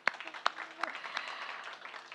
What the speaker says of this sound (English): help me give you a big round of applause for this